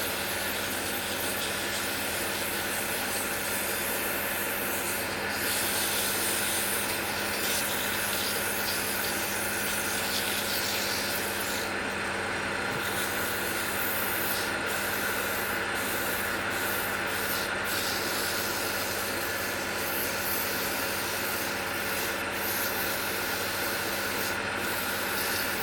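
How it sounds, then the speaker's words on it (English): Sandpaper held against a spinning wooden icicle ornament on a woodturning lathe gives a steady, loud, hissing rub that runs without a break, with the lathe's hum underneath and no talking. "we're going to hit it with some sandpaper one more time"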